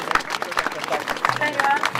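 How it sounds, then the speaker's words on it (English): Onlookers at a sheep fair applaud a young handler, a continuous patter of clapping outdoors with voices and other fair sounds mixed in. "So give him a big round of applause."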